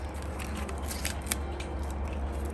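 Rows of leaves being peeled off a pineapple crown by hand, giving soft crackling snaps and tearing sounds close to the mic over a faint background hum.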